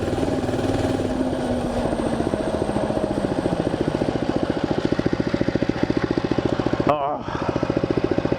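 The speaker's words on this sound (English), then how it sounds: "Sounds more like a Harley than the other bike. It's got a little bit of a backfire" A Mega Moto minibike engine runs steadily with a rapid, dense firing pulse, closely miked and loud, and a sharp pop or backfire breaks through near the end.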